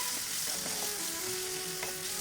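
Chopped ivy gourd fries in a hot pan with salt and turmeric, giving a steady, close, dense sizzle throughout with a few faint scraping stirs mixed in.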